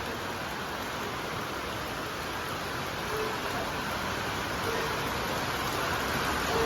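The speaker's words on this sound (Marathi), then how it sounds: "दोन दिवस झाले मुसळधार पाऊस चालू आहे" Heavy monsoon rain pouring in Tuljapur, a dense, steady roaring wash of water with no gaps, close and loud throughout, with no talking.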